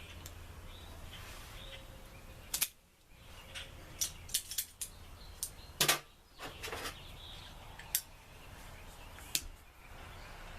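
An Arturo Fuente Double Chateau Maduro cigar is cut on a porch in a series of quiet, sharp snips and clicks spread across the clip, over faint background hiss with no talking.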